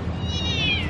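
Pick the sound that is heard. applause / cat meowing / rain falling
cat meowing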